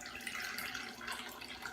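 Water pours into a bowl of corn tortilla dough, a soft continuous splashing trickle heard faint and steady with no talking over it.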